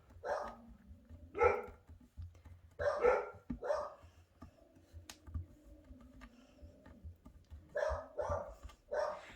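Several dogs bark in scattered bursts, some close and some farther off, with quiet gaps between, alongside faint tapping.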